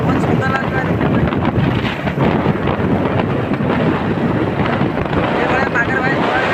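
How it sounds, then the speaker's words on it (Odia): Open wind rushes across the microphone while riding a vehicle through countryside, a loud, continuous low roar with constant buffeting that never lets up. "ମୋବାଇଲ ଦେଖିବା ପୁରା ଚାରିଆଡ଼େ ଖୋଲା ଖୋଲା ପବନ କାଟୁଛି।"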